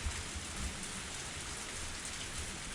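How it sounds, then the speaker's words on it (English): Pouring rain in the Higurashi visual novel game, a dense steady hiss of heavy rainfall on surfaces, constant and even throughout with no voices. "The only sound of the pouring rain filled up the silence."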